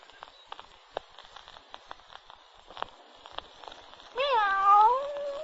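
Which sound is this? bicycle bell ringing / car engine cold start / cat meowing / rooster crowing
cat meowing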